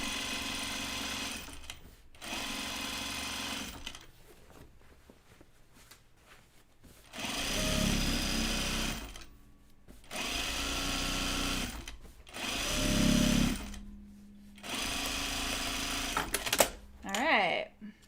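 A sewing machine stitches jeans in long, loud, steady whirring runs separated by pauses, with a person talking at times between the runs.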